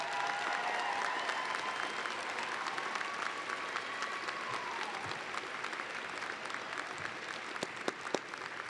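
A graduation commencement audience applauds with sustained, even clapping from a large crowd, and a few sharper claps stand out near the end.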